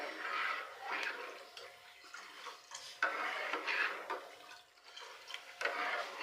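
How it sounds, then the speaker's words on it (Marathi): A spoon scrapes and swishes in a cooking pot as buttermilk ambil is stirred continuously. The soft, wet, rhythmic strokes repeat roughly once a second and stay close and fairly quiet. "असं सारखं हलवत राहायचं नाही तर मग घट्ट होते लगेच"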